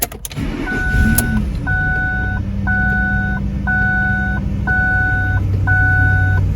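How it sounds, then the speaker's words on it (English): A cold Ford Expedition engine cranks and catches, then settles into a steady low idle while a dashboard chime repeats in a regular pattern. "Alright, just gonna start the car."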